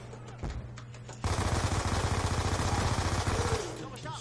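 Rapid automatic gunfire from Call of Duty Black Ops 2 erupts after a quiet start, a dense loud burst of shots lasting about two seconds before tapering off over a steady low hum.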